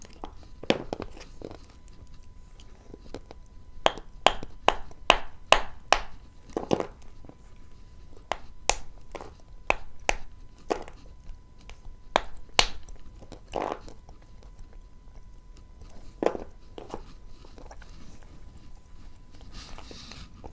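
Dry firewood splits with sharp cracking crunches, irregular bursts of loud snaps spread through the stretch, some in quick clusters, with quiet gaps between.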